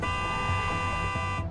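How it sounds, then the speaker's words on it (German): A truck horn in the video game Clustertruck blares steadily and loudly for over a second before cutting off abruptly. "Ey, warum hupst du, hä?"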